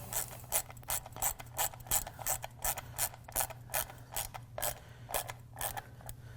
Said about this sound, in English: I'm going to run them down with just a touch with my ratchet